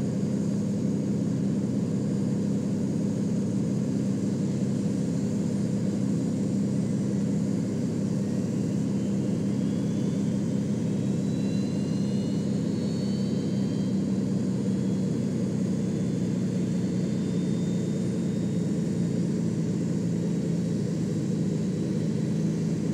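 Engine 1 of an Airbus A320 in X-Plane 11 spools up as a steady, even jet hum and whine, with a faint rising tone sweeping upward partway through.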